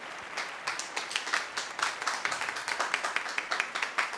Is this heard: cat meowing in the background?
no